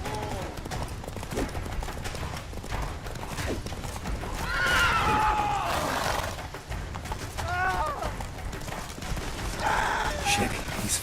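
In The Witcher 3 video game, the horse Roach gallops with rapid, rhythmic hoofbeats and lets out several loud, close neighs and whinnies over the galloping, amid game sounds.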